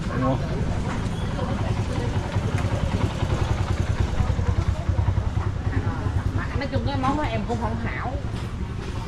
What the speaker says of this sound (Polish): A tu jak widzimy od groma mamy skuterów. Jadą, jadą, skutery jadą,